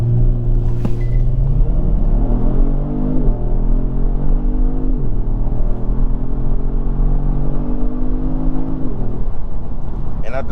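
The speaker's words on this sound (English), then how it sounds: "we are going to try a launch control and see how good the rear-wheel drive puts down its power" A rear-wheel-drive 2019 Kia Stinger GT1 launches under launch control, its engine droning loudly and climbing in pitch through several upshifts, a steady close rumble throughout.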